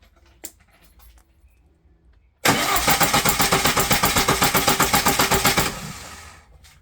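VAZ 2105 engine, converted from 1.3 to 1.6 litres, cranked by the starter during a cylinder compression test in a garage: after a quiet pause, a loud, even chugging of steady compression pulses runs for several seconds and then fades.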